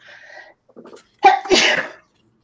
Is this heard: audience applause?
no